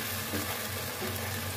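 Chicken and pineapple juice sizzle steadily in a pan while cooking a simple Indonesian-style paprika chicken dish, a continuous low frying hiss with a faint watery bubbling beneath, no voices present.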